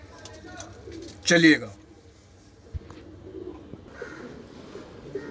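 A short burst of Madradi pigeons cooing rises briefly amid soft background noise, with someone speaking a few words around it.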